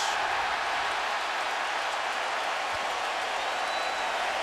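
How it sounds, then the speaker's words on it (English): Crowd of baseball fans in Miami's new ballpark on its first night, cheering a base hit: a dense, continuous roar of applause and voices, distant and steady throughout. "the fans here in Miami on their first night in their new ballpark finally get to cheer a base hit"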